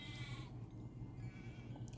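Sheep bleating during sheep shearing in the Nancy Drew game The Haunting of Castle Malloy, a steady low animal bleat running continuously at moderate level with farm ambience behind it.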